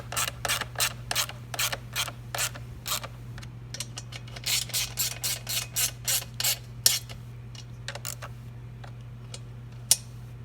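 A hand ratchet snugs the skid plate mounting bolts on a 2018 Husqvarna TX 300, giving quick rapid clicking runs in bursts with short pauses, close and clear over a low steady hum.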